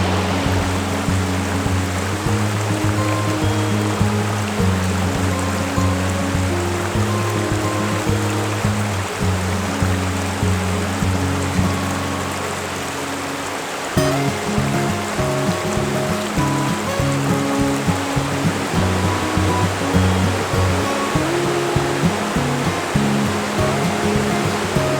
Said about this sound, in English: this creek is flowing a little more quickly than normal just because of the rains we've had over the last couple of days